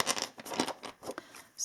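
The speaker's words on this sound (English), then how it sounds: "So I'm going to shuffle a little bit" A Book of Shadows tarot deck being shuffled: quick, close card riffles and slaps in several short bursts, soft and papery, with no voice over them.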